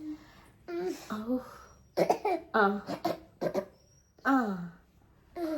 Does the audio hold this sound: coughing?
yes